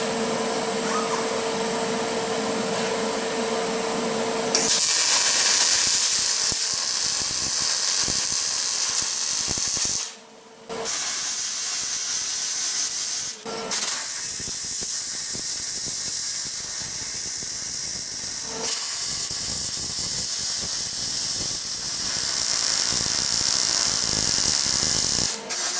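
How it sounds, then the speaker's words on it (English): A steel garden bridge being welded, with a loud continuous hissing, crackling arc sound that runs for long stretches, broken by two short pauses before resuming, close up and without voices. "let's do some rubbish welds."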